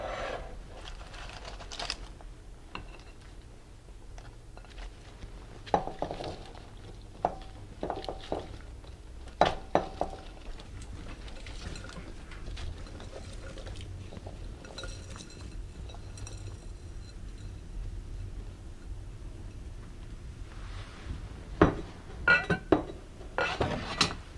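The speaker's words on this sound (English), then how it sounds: "now is the time that you want to add all of your vegetables and aromatics" Chopped vegetables and aromatics dropped into a stock pot for homemade chicken stock, with scattered clinks, knocks and clattering of pot and utensils, busiest near the start and end, fairly faint and close.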